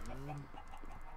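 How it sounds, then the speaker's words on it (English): Chickens clucking in the video game Minecraft, a few short close clucks heard alone in a brief burst. "Lots of chickens."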